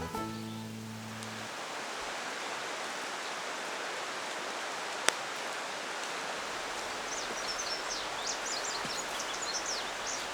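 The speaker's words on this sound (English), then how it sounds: "the sound of the Ozark Mountain stream in the background" Steady broadband rush of a flowing Ozark Mountain stream in Arkansas, continuous and even for the whole stretch, with faint birdsong high above it and one sharp click midway.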